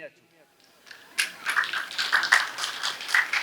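An audience at a sermon claps in scattered, uneven claps that build from a few hands into a moderate patter, with a voice speaking before it starts.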